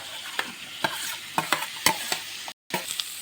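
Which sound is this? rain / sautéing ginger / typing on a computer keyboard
sautéing ginger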